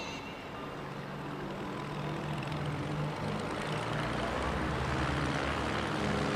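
A propeller aerobatic airplane performs at a national championship air race, its engine drone rising and swelling at a distance over open-air crowd ambience, growing louder toward the end.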